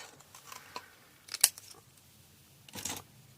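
Scissors slice through a sheet of paper in a quick cut, leaving short crisp snips and rustles, close and quiet with no talk.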